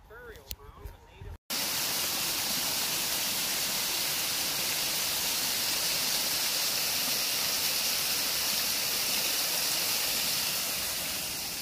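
Water pours from a water feature by a bridge on the Smithfield Greenway, a steady, loud rushing wash that fills the scene after a brief moment of talk at the start.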